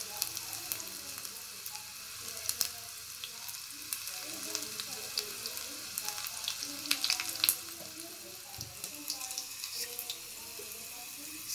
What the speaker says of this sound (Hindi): लहसुन पक रही है